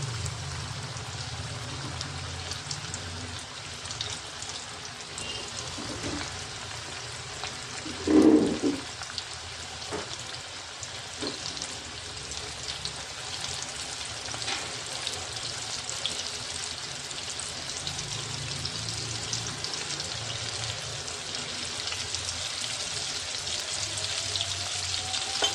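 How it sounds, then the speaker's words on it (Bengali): Snacks sizzle and fry in hot oil in a kadai over a lowered gas flame, a steady close crackling bubbling that runs throughout, with a brief louder splash or clatter partway through. "এইবারে আমি একে একে এগুলো কড়ার মধ্যে ছাড়বো অ্যান্ড ফ্রাই করব।"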